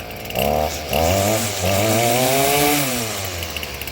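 The small petrol engine of a Stihl FS38 string trimmer, unused for at least two years, revs up and down in several surges, a buzzing two-stroke drone rising and falling in pitch, close by and loud.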